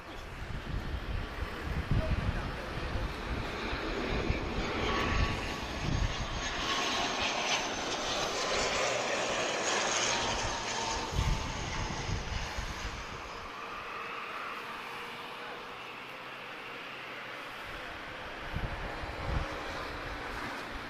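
A TAP Express ATR turboprop at Lisbon Airport in brisk crosswind, its engine roar loud and sustained, swelling and then easing as it passes, with wind buffeting and a person talking underneath.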